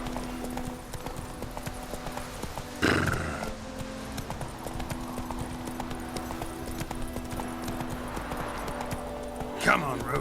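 The horse Roach in The Witcher 3 trotting, with a steady clip-clop of hooves, a couple of snorts or whinnies, and faint voices in the background.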